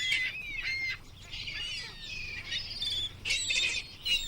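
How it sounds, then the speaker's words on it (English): Tropical birds calling around Ha Long Bay, Vietnam, giving a string of faint chirps, whistles and squawks over a low background hum. "It's ideal territory too for numerous tropical land and seabirds"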